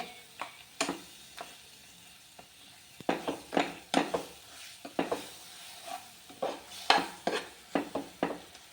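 A banana is mashed in ghee in a pan: repeated soft, irregular thuds and scrapes of a utensil against the pan, fairly quiet, with a faint sizzle underneath.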